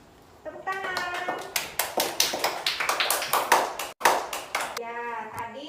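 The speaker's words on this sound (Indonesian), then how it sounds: "Tepuk tangan." A third-grade class claps together in a rhythmic, patterned clap, sharp hand strikes in quick sequence, with children's voices briefly heard before and after.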